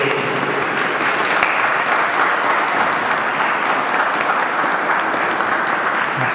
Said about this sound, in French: On remercie Père Sylvion avec un applaudissement